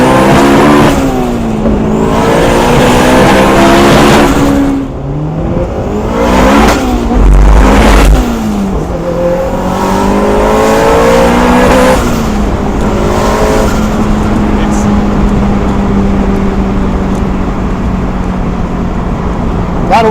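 A turbocharged 500 hp Honda S2000 engine revs hard and repeatedly, pitch climbing and falling, with wheels spinning and tires squealing; loud and close throughout.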